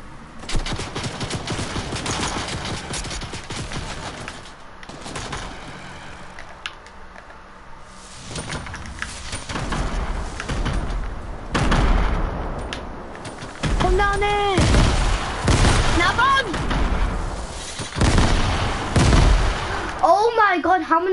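Video game gunfire in bursts and rapid volleys, loud and dense, with brief lulls between, mixed under excited players talking over it.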